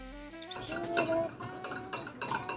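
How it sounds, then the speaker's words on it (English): A utensil stirring an herbal balm mixture with essential oil in a container: light scraping and clinking strokes at a close distance, preceded by a brief tonal hum. "You want to stir this really well."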